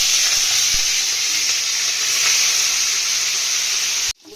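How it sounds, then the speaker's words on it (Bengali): Koi fish, rubbed with salt and turmeric, sizzle steadily in hot oil in a pan, a loud close broadband hiss that holds for about four seconds before cutting off abruptly. "মাছগুলো ভেজে নিই"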